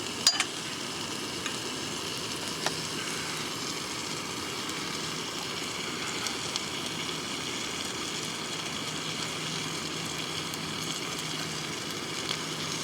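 Noodles cooking in a pot on a camping stove in the mountains, a steady broadband sizzle and burner hiss running evenly throughout with no talk.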